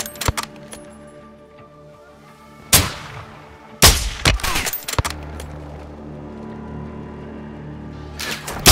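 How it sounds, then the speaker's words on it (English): Scattered single gunshots and sharp cracks in a Call of Duty Modern Warfare II campaign firefight, a few loud near blasts standing out over quieter distant shots and a low steady ambient hum. "Sir, they're returning fire."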